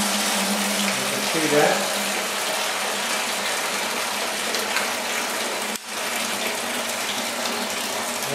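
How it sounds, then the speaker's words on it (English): Backset liquid gushes steadily out of an opened still during a moonshine ferment, a loud, continuous pouring rush of liquid with a brief voice heard over it. "I'm going to capture about 8 gallons of backset. There she goes."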